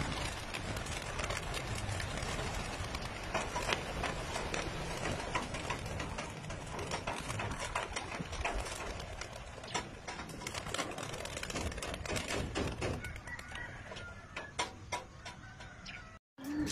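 Dense clattering and rapid flapping of many racing pigeons' wings as a flock is released together for a training race, with scattered sharp ticks and rustles continuing throughout.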